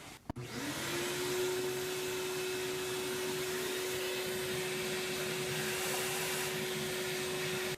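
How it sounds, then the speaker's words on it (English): A shop vac runs steadily and loudly throughout, its motor whine holding a constant pitch after a brief start-up surge, while it sucks up RTV sealant debris from the engine bay of a Toyota 2GR-FE during valve cover gasket work. "what I'll do is just run the shop vac as I'm working in this area to pull that back, and I'll have the shop vac suck it up"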